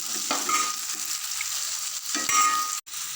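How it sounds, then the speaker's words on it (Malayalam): Chopped onions sauté in a hot frying pan, a continuous close sizzle with scraping stir strokes and a sharp clack of the spoon near the end, no voices. "ഇനി ഇതിലേക്ക് നമുക്ക് സവോള ഇട്ട് കൊടുക്കാം ഇത് നമുക്ക് നല്ല രീതിക്ക് തന്നെ ഒന്ന് വാട്ടിക്കൊടുക്കാം"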